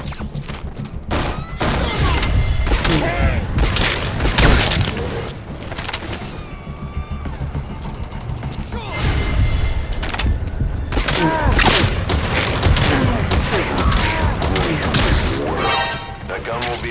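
Dense gunfire and heavy thuds from Metal Gear Solid V: The Phantom Pain fill a loud, continuous battle mix, with music and radio-style voices talking over the shooting throughout.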